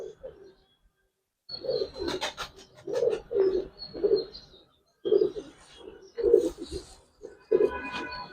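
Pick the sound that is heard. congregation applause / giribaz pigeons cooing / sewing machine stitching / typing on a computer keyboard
giribaz pigeons cooing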